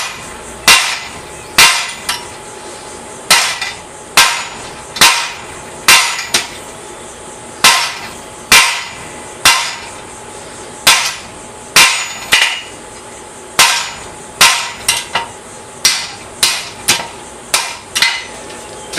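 A blacksmith's hammer strikes a steel bar to forge a taper, ringing out in about twenty sharp, evenly spaced blows, loud and close, with a few quicker double hits.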